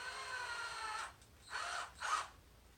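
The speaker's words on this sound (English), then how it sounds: "I'm going to go ahead and use the power driver now" Power driver running screws into a servo mount on a Pro-Line PRO-MT 1/10 4x4 monster truck, a quiet whir followed by two short close bursts.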